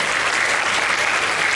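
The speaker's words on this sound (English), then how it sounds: "Can we give them a round of applause?" Loud, dense applause from a school assembly audience, steady and close throughout with no pauses.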